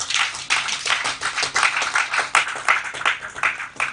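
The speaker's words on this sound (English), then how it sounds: "Give yourselves a hand of applause." An audience at a reunion gathering applauds, with brisk, dense hand claps close by that go on steadily throughout.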